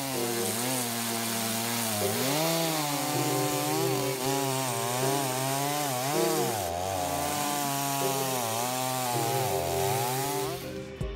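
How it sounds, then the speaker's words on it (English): Chainsaw cutting a tree held on a specialized tree stand, engine droning loudly and continuously with pitch rising and dipping as the chain bites into the wood, alone without voices. "When combining a chainsaw with a specialized tree stand, the sawman will be able to easily cut the tree to his liking."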